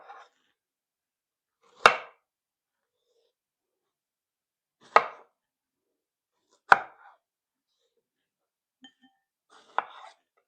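A knife chops through fresh strawberries on a cutting board in a home kitchen, three crisp separate cuts spaced a few seconds apart and a softer knock near the end, close and quiet.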